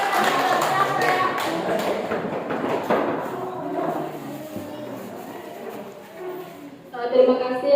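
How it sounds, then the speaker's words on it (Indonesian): An audience at an Indonesian gathering claps together in a dense, lively burst that gradually thins out over several seconds, with a voice speaking near the end. "Oke, tepuk tangan Bapak Ibu sekalian."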